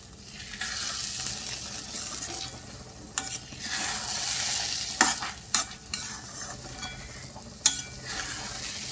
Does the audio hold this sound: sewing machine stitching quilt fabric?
no